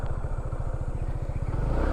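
A motorcycle engine putters in a steady, fast rhythm close by as the bike climbs up to a lakeside view deck, and the pitch swells slightly toward the end.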